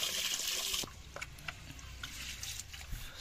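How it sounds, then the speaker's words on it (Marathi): Old basmati rice being rinsed in water for a Konkan-style biryani: a burst of splashing, sloshing water at the start, then softer trickles and drips. "तर हा आता आम्ही स्वच्छ धुवून ह्याला थोडा वेळ पाण्यामध्ये भिजत ठेवणार आहोत"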